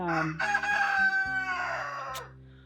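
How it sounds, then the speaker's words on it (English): A rooster crows loudly and close by in one long, strained call with harmonic stacks, a low steady hum running underneath. "you're gonna have to excuse the roosters, they suck, and they're here, so they make noise"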